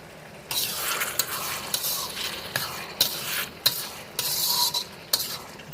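Masala being fried in goat fat with slit green chilies, a continuous close sizzle broken by repeated scraping and stirring strokes against the pan, with no voices.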